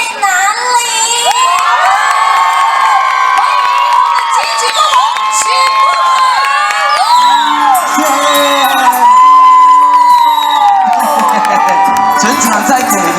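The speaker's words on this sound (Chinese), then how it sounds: "掌声尖叫声在哪里？" A large audience at a year-end blessing and thanksgiving evening concert in Shengang, Taiwan screams and cheers in a loud, sustained wave of high-pitched shrieks and whoops that fills the whole stretch.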